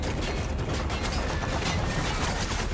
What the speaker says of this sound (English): So they're going to be shooting at you a lot from the other side.